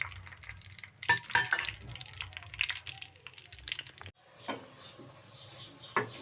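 Chopped onions fry with whole spices in a pan, giving a close, steady sizzle broken by scraping stirs and clatters, with a brief dip before the crackling resumes.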